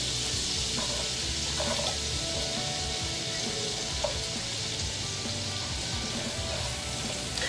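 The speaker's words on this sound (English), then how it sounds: "I'm gonna go ahead and add in the onions and the garlic that I chopped up" Chopped onions and garlic sizzle steadily in melted vegan butter in a pan, a dense continuous frying hiss with occasional small pops and stirring clinks, heard close and alone.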